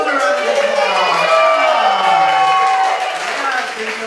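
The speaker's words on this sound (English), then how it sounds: "give yourselves a round of applause" At a comedy class showcase, the audience claps, cheers and whoops loudly at the host's welcome, a thick, sustained crowd roar with shouted voices rising and falling before easing slightly near the end.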